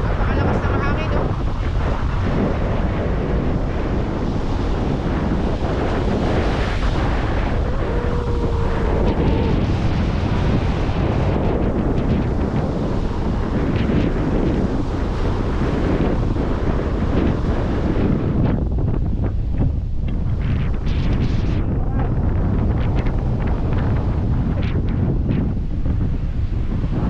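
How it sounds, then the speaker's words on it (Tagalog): Strong coastal wind roars and buffets the microphone continuously beside heavy surf in Ilocos Norte, with a loud, steady rumble throughout and brief voices underneath. "Napakalakas ng hangin, oh."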